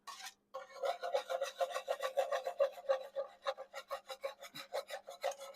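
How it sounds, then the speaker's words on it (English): A utensil scrapes browned bits off the bottom of a pan after flour was cooked into a roux for creamy chicken and rice: a quick, steady rhythmic rasping, close and fairly loud, with many strokes and no talk. "And we're scraping all those yummy bits off the bottom"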